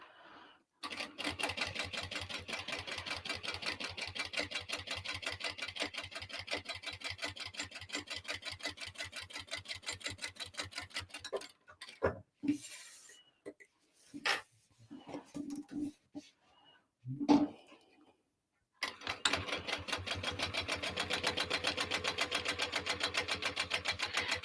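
A sewing machine top stitches down each side of a Passionflower tote bag, about 1/8 inch from the edge, in long runs of rapid, even stitching. A stretch of scattered clicks and short bursts falls in the middle before the steady run resumes.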